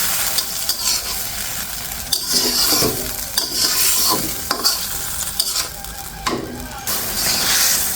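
A spoon stirs shol fish curry in a pan just after hot water has been added, giving repeated scraping strokes over a steady bubbling sizzle, close and fairly loud, with no talking.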